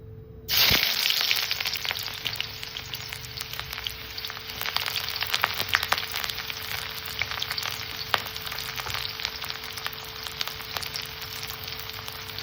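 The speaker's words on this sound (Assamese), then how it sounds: "আমাৰ তেল গৰম হ'ল, এতিয়া মই ইয়াত পিঁয়াজ দিম প্ৰথমে।" Onions dropped into hot oil for a Nepali-style sesame and pea pickle, bursting into a steady, loud sizzle and crackle that carries on alone after the initial splash.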